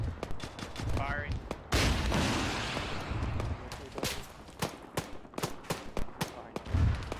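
Scattered gunshots crack out in ArmA 3 as single sharp reports and short volleys, close and distant, with a larger blast and rumble partway through. Radio voices talk over the firing.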